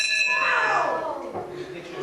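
An old school bell rings once with a bright metallic strike whose tone rings on and slowly fades over about two seconds.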